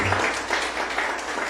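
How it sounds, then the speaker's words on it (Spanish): Congregation in a church clapping for the Lord during a sermon, a brief loud burst of dense, close clapping that holds steady without pause. "Dele palmas al Señor."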